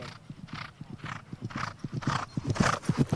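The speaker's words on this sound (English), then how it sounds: "Exciting horse coming through." Hoofbeats of a horse galloping across an eventing cross-country course at an international nations cup competition, a steady rapid clip-clop rhythm close and prominent, with a faint voice in the background.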